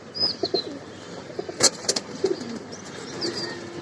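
Pigeons cooing close by at a Bangladeshi pigeon sale, a few soft low coos with scattered chirps and sharp bird calls over a quiet background.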